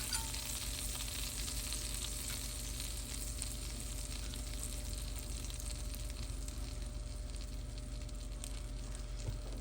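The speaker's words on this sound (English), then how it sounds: "I am going to take the folded side first down, kind of roll it in the butter and let that cook." A breakfast burrito cooks folded side down in melted butter in a pan, giving a steady, even sizzle and soft frying hiss throughout with no talking.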